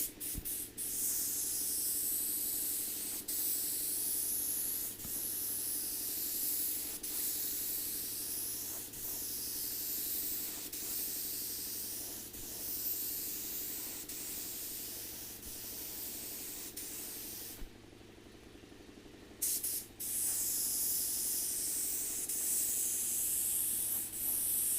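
A spray gun laying metal flake over a silver base coat while an air compressor runs. A steady airy hiss swells in repeated passes every couple of seconds, briefly stops, then resumes.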